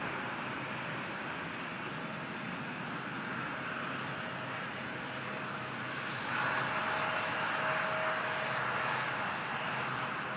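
Airliner jet engines at Toronto Pearson airport roar in a broad, steady rumble from a distance, swelling slightly louder partway through, with a faint whine layered on top and no speech.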